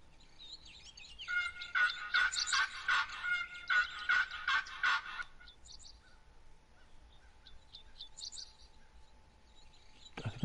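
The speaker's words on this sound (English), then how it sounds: "I think I kind of hear a turkey now." A wild turkey gobbles in a hunting game, a rapid rattling burst repeated several times at moderate distance, followed by fainter scattered bird calls.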